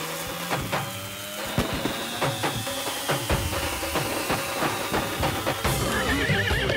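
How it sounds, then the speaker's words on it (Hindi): A cartoon horse whinnies loudly and close, over a rattle of clip-clopping hooves and sharp knocks, with a bright, wavering neigh near the end. "ये घोड़ा रुक नहीं रहा है।"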